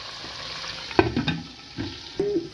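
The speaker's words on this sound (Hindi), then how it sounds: "फ्राई हो रहे हैं। इनको इसी तरह बस हिलाना है" Stuffed tinda (Indian round gourd) fry in a pan while a spoon stirs them, giving a soft sizzle beneath several close scraping strokes and clinks of the utensil against the pan.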